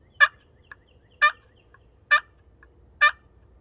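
A turkey pot call is played in four evenly spaced, close yelping notes, each a raspy, breaking squawk, with small faint clicks between them and otherwise quiet background.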